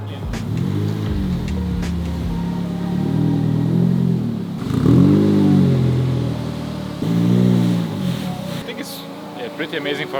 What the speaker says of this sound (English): Like look at this fucking race car.